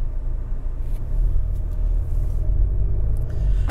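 A 2016 Volkswagen Jetta GLI pulls away in drive with a low, muffled engine rumble that builds slightly, heard from inside the cabin with road noise.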